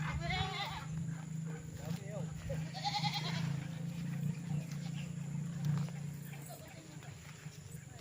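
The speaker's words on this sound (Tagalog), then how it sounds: "Ganda ng kambing, may anak ang kambing." Goats with a kid on a farm lot in Liliw, Laguna, bleating in a few short wavering calls near the start and middle, with a voice talking over the farmyard background.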